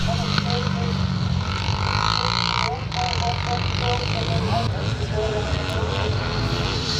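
Classic motocross motorcycles race past on a Scottish track at Forfar, loud buzzing two-stroke engines rising and shifting pitch nearby, heard under a commentator's voice.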